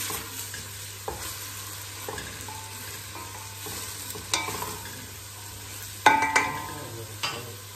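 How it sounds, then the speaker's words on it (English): Food frying in a pan with pepper, stirred with a utensil: a soft steady sizzle runs throughout, broken by scraping stir strokes and a few louder clanks against the pan. "Give that a nice stir."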